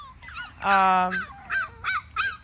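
A puppy lets out one drawn-out, high yelp, then several short, sharp barks close by.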